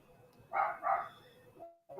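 A dog gives two quick barks close by, then a short pause, a faint whimper, and the start of a third bark right at the end.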